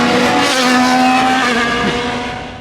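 Race cars roar around the track at Barber Motorsports Park, heard from a nearby campground as a loud, sustained engine drone that peaks and then fades into the distance.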